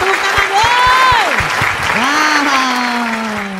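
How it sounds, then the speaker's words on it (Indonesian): A small group claps at an informal indoor gathering, steady applause lasting several seconds, with voices calling out and a rising, falling whoop riding over the clapping. "Wah, tepuk tangan dong"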